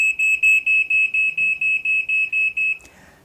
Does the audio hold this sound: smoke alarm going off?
yes